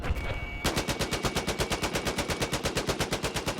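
Rapid automatic gunfire in Battlefield 4, a loud continuous burst of evenly spaced shots after a brief quieter moment, close and relentless.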